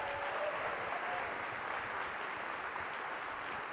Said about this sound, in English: And one more round of applause for Transit Arts